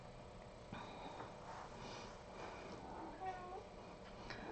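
A pet cat meows indoors, a few faint, thin cries with a low background hum beneath them and no clear talking.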